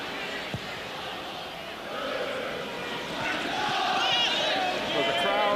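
Anxious football crowd at Villa Park during a 1992-93 Premier League match between Aston Villa and Manchester City, a dense, steady roar of massed voices that swells slightly toward the end, with no clear individual speech.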